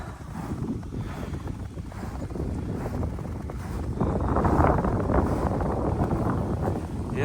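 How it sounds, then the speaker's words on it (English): Steady wind of 10 to 12 mph roars and buffets against the microphone outdoors at a subzero winter campsite, growing slightly stronger partway through, with no talking. "It is kind of windy though."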